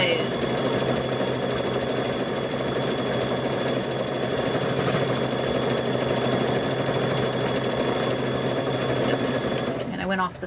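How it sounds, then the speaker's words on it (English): Sewing machine stitching steadily around the edge of a fabric bowl cover, a loud continuous whirring drone held for the whole stretch. "we're going to just stitch all the way around his thing"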